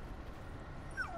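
A dog whimpers briefly and faintly in the Call of Duty zombies map Der Eisendrache, a short high whine over a low game background hum.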